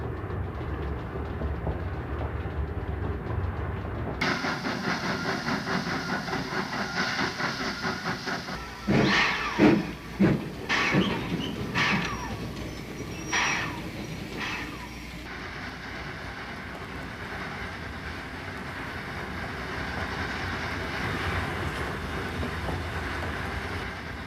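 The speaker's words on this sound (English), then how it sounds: "The train tops the summit and then glides down grade with brake shoe smoke rolling from the cars" A Southern Pacific Cab Forward train coasts down a grade from the summit with its brake shoes smoking, giving a steady, distant rolling rumble with a burst of rhythmic clacks partway through.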